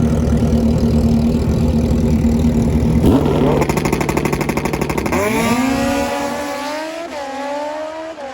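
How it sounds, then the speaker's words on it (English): Hayabusa drag bike engine idling with a rough, loud rumble, then revving in sharp bursts, rising steeply twice with a climbing high-pitched whine that trails off near the end, heard at a drag strip. "This is Barry Pryor and his new Hayabusa drag bike."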